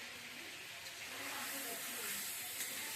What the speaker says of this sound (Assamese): এয়া মাংস ভাজি আছো ভাজি আছো